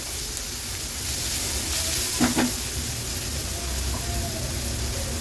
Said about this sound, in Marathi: टोमॅटो देखील कांद्यासोबतच व्यवस्थित परतून घेते